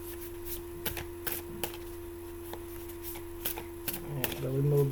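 Tarot cards are shuffled in several quick riffling bursts, close and crisp against a quiet room with a steady low hum, and a voice begins to speak at the very end.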